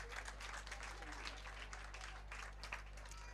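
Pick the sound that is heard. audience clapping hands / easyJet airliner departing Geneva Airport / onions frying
audience clapping hands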